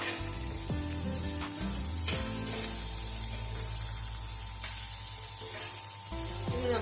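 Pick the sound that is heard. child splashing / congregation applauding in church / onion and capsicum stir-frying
onion and capsicum stir-frying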